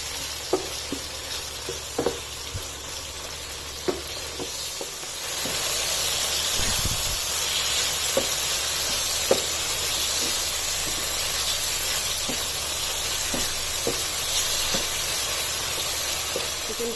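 Boneless chicken pieces fry in oil in a pan with a constant loud hiss and sizzle, dotted with faint clicks from stirring, and the sizzle grows fuller midway through.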